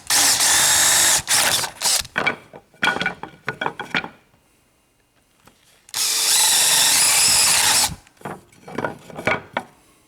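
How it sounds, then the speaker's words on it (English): A spade bit bores through wood in two loud grinding bursts, each with rough, chattering rasps that start and stop around a near-silent pause. "when you're drilling a hole with a spade bit, always drill one side first"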